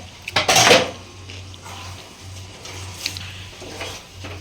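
Mushrooms and chopped coriander leaves being stirred in a pan for mushroom manchurian, a sharp clatter of the spoon against the pan at the start followed by softer scraping and light clinks over a low steady hum.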